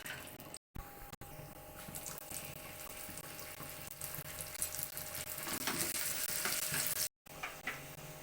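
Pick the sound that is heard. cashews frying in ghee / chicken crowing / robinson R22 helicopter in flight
cashews frying in ghee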